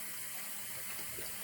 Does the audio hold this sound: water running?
yes